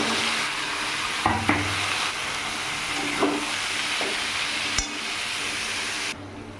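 Banana flower fries in spice paste in a pan with a steady, loud hiss of sizzling oil, broken by a few scraping stirs, heard up close throughout.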